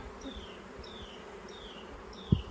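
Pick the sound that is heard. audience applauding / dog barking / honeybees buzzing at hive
honeybees buzzing at hive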